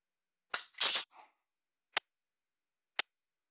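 Dry-fire trigger pulls on an AR9 pistol-caliber carbine fitted with a G-Sight laser trainer, an initial clattering handling noise followed by two crisp, isolated clicks about a second apart in otherwise silence.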